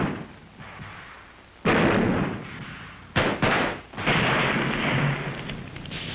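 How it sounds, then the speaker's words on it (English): Heavy WWII street fighting during the liberation of Paris in August 1944: loud bursts of rifle and machine-gun fire mix with booming artillery blasts over a constant roar of battle, sharp cracks and thuds in rapid succession. "the firing's general now, and there's anger and hatred behind each bullet"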